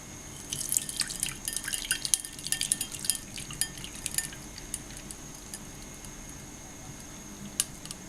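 Milk pudding mix trickles and drips into a cooking vessel for caramel pudding, a run of close, fine splashing drips over the first few seconds that thins to sparse drops, with no voices.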